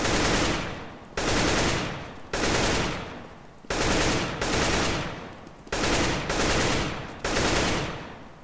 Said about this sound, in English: The second type of aiming is going to be burst shooting.